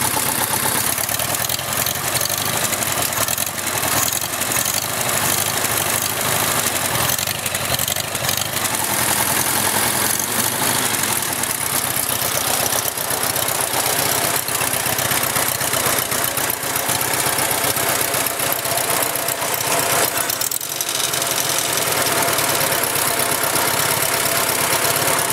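A Farmall Cub tractor engine idles off the throttle, a steady low mechanical chug with a slight knocking rhythm, running continuously and close by with no voices.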